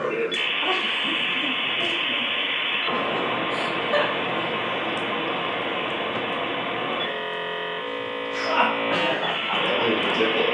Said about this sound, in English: that was America Online's dial-up modem connecting a computer to the internet